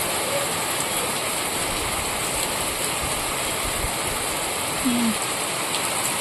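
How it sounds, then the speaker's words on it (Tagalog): Steady, loud rain pouring down continuously with a dense hissing roar that does not let up. "Ang lakas ng buhos ng ulan."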